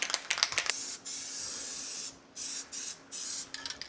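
Plasti Dip spray coating a car wheel from inches away, heard as close, loud bursts of aerosol hiss in several separate pulses with short pauses between, after some faint handling clatter.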